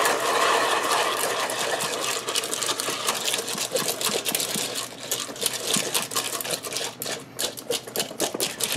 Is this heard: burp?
no